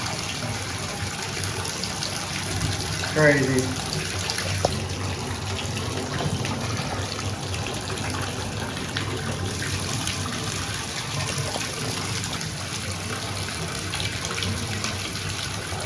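Water gushing steadily from an apartment faucet that won't shut off, a constant close hiss and splash with a brief clunk of handling early on and a short spoken remark.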